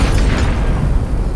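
A train slams into a tank and explodes in the Teardown video game, a loud, deep, rumbling boom that stays heavy and sustained throughout, with no talking.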